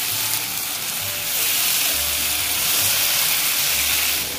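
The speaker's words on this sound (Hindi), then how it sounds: "अब हम इसे मिला लेंगे प्याज को," Chopped onions frying in a pan while masala bhindi, a dhaba-style okra dish, is cooked at home: a steady, fairly loud broadband hiss of sizzling oil throughout, with low rumbling underneath and no talking.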